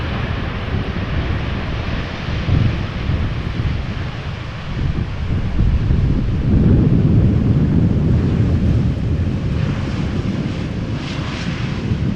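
An airliner arriving from Bonaire on approach at Amsterdam Schiphol Airport in crosswind conditions gives a steady, broad engine roar that swells slightly midway, mixed with gusty wind buffeting the microphone, with no talking.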